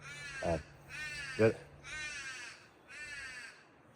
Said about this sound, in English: That is the sound of a crow.